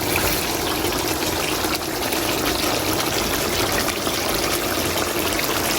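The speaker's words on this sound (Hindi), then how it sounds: "जितनी ग्रेवी चाहिए उतना आपने इसके अंदर सिर्फ पानी ऐड करना है" Water poured into a pan of kofte gravy during cooking, a steady broadband rush and trickle that runs without a break for the whole stretch, close and fairly loud with no talk over it.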